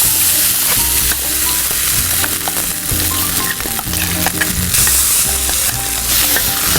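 Hot tempering of curry leaves and asafoetida sizzles loudly as it is stirred into a chutney off the stove, with a constant crackling fry and repeated scraping clatter of the spoon.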